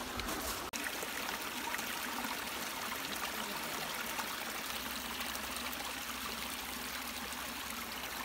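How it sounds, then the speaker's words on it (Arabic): Natural mountain water flows and trickles in a steady, even rush, a continuous broadband wash at moderate distance near waterfalls in the Zan area of Chahna, Jijel, with no voices. "كاين المياه الطبيعيه، شلالات"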